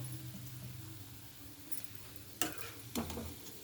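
Gulab jamun fry in oil with a faint, steady low sizzle, interrupted by two sharp clinks of a utensil against the pan near the end.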